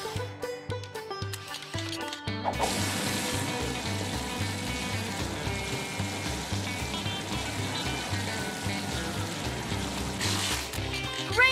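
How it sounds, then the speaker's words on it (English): Marshall the firefighting pup's water cannons spray steadily to keep him hovering in a PAW Patrol game, a continuous hissing gush over cheerful background music, loud and sustained for about nine seconds. "When it's too far to jump, Marshall can use his water cannons to hover."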